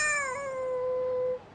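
A cat in the video game Lost Judgment lets out a single clear, drawn-out meow while being petted, its pitch gently falling before it stops.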